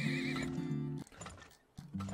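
Horse neighing in the Turmoil video game: a loud whinny in the first second with hoof clip-clop, then a shorter neigh near the end, no talk.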